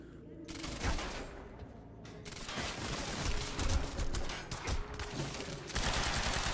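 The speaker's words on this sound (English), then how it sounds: "Burst fire pistol." Burst-fire pistol shots in the video game Quantum Break, sharp short volleys cracking in quick clusters over several seconds, loud and close amid busy game noise.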